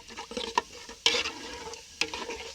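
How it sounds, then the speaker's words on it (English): Tomato, onion and oil stirred together in a pot for jollof rice, a steady sizzle of frying under repeated scraping spoon strokes, with two sharper clanks of the spoon against the pot. "frying the tomato until it pebbles and separates from the oil"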